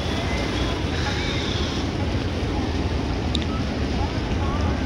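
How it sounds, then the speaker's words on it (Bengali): River water flows at the Kumbh Mela in Prayagraj, a dense, steady rush mixed with wind buffeting the microphone, continuous and close. "জলের কলকল আওয়াজ"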